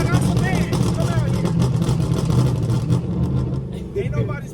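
Dodge Charger R/T with a 5.7 V8 rumbling and revving nearby, its exhaust crackling and popping in quick bursts, with voices talking over the engine.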